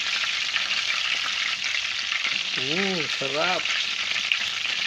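Chicken pieces deep-frying in a pan for crispy fried chicken, with a steady, dense sizzle and crackle throughout at close range, and a brief spoken word partway through.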